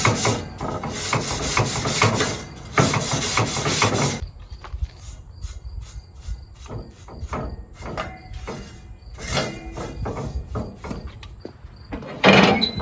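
A stainless steel scrubber scrapes across the V-bars of a Santa Maria style grill, harsh rasping strokes in two loud sustained bursts, then lighter intermittent scrapes and clanks before another heavy stroke.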